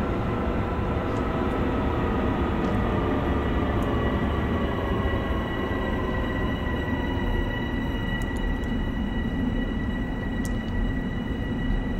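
Long Island Rail Road train running at speed in Train Sim World during a blizzard, a steady loud rumble and roar with faint whining tones, continuous with no talk.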